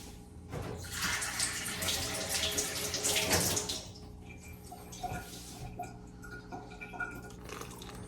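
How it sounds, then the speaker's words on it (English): Water is poured little by little from a shot glass while making pupusas, a soft trickling and splashing that starts, runs for a few seconds and then falls to faint drips, heard close and quiet. "I will use this for water to pour in little by little"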